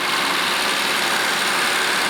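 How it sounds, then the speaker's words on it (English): A 1989 Nissan Skyline GT-R's RB26 engine idles with a steady, noisy hum and no change in pitch. No voices. "RB26 engines are naturally noisy. This one's no different"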